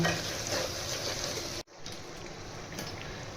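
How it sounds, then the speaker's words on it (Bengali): Mutton and dry spices sizzle loudly in a pan while being stirred, with a steady frying hiss and soft scraping that cuts out abruptly and then resumes, no one speaking. "আবার নাড়ব।"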